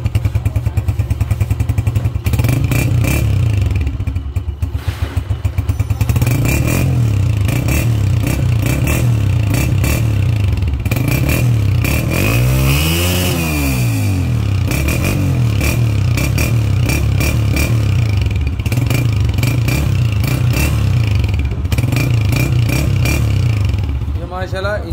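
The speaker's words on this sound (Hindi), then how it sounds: "ये माशाल्लाह इंजन की आवाज सुनी है, अभी इंजन की भी आवाज सुन रही है।" Honda motorcycle engine idling steadily after repair, a loud close chugging drone with a brief rev swell midway and occasional clatter throughout; someone talks over it.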